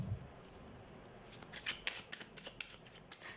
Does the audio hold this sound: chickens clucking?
no